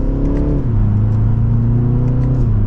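2024 BMW 330i xDrive M Sport accelerating hard in second gear in sport mode, a steady close engine drone rising in pitch with a brief dip as the revs shift, heard from inside the car.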